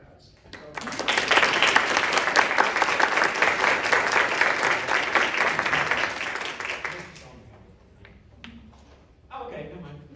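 Audience applause welcoming four MFA thesis graduates at an art presentation, a dense, loud burst of clapping that swells and holds for several seconds, then fades out into scattered murmurs and a little talk.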